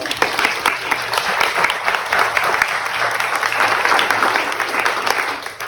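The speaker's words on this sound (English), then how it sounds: "So give that a round of applause." Audience applause at the grand opening of a center serving blind people in Mississippi, a loud continuous patter of many hands clapping close by that carries through the whole stretch without speech.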